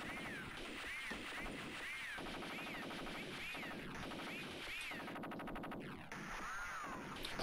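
Explosions and gunfire in the Amiga fighting game Metal Kombat, a faint, busy stream of repeated blasts and shots with bright sweeping game effects throughout.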